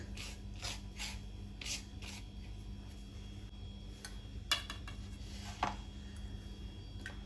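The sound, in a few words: coating fish slices with fine semolina by hand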